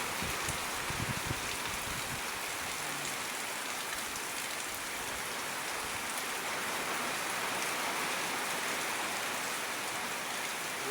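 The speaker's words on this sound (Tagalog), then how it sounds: "Ayun, lakas ng ulan." Heavy rain pours down steadily, a dense, constant hiss of drops striking surfaces close by, with no break in intensity throughout.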